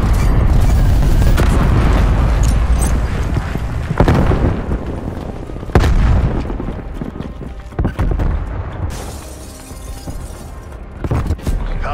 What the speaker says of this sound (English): Enemy cruise missile launch detected.